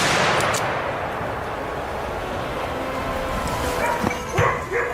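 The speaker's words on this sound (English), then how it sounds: "he swiftly fired a shot" A hunting rifle fires a single sharp crack at a wild boar near the end, among dogs barking and yipping during the chase.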